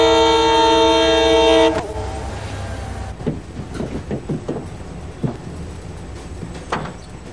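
Train horn blasts loud and steady for under two seconds, then gives way to rumbling and clattering railcar noise with scattered knocks, heard alone without voices.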